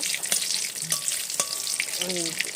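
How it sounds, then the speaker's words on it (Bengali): Spice masala with dried red chillies frying in a pan, a close, busy sizzle broken by several sharp stirring scrapes and clinks, with a faint voice-like tone briefly in the background. "শুকনো লঙ্কা একটু বেশি দিলাম মশলাটা আমি বেশি করে কষিয়ে নেব"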